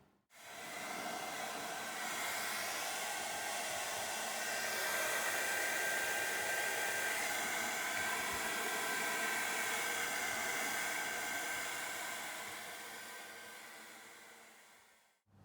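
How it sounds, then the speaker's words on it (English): A hair dryer blows a steady, loud whoosh with a faint high whine while drying a cleaned heat exchanger part from a Yanmar 3GM30F marine engine, switching on, running evenly for about fifteen seconds and then cutting off. "And then I'm going to dry it thoroughly so that"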